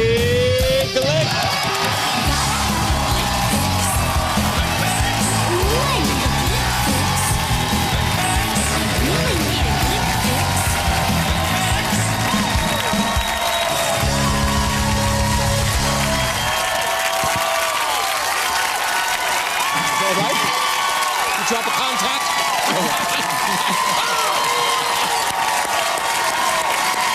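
A studio audience at a comedy talk show roars with sustained applause and cheering that fills the room loudly and continuously, easing somewhat near the end, with music and a voice briefly audible beneath.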